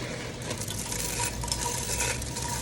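Rice stirred in a pan, spoon scraping and clinking against the metal in a continuous gentle rhythm over faint sizzling, close and fairly quiet.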